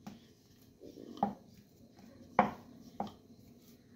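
Stuffed pea kachori dough rolled out with a rolling pin on a board: quiet soft rolling under three distinct wooden knocks, spaced about a second apart, close and otherwise calm.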